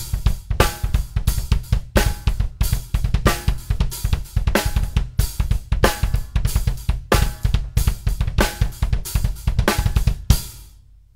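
A drum kit plays a busy hip hop-style groove built on triplets, with tight, punchy kick and snare hits and steady hi-hat in a dense, driving rhythm, close and loud with no talking.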